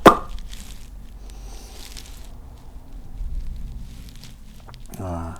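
A cork pops sharply from a bottle of Brett-Elle lambic beer by Lambiek Fabriek, one quick plop at the start followed by soft fizzing and handling noise, with a voice briefly heard at the end.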